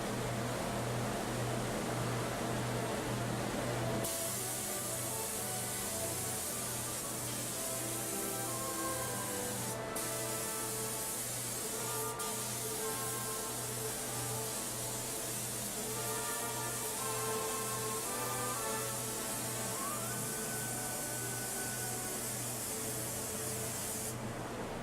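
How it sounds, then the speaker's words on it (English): Hand spraying of dye or top coat onto leather: a steady, close hiss of spray that starts after a few seconds and runs continuously with brief interruptions, over a low constant hum. "For more specialized applications, hand spraying can be used."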